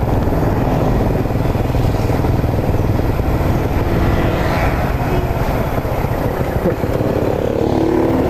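A motorcycle taxi's engine runs steadily and loudly while riding in search of passengers, a continuous low drone with wind rush and no pauses.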